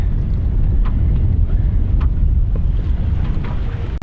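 Steady, loud wind buffets the microphone aboard a sailboat out on the Solent, a dense continuous roar with faint water and rigging noise and no talk.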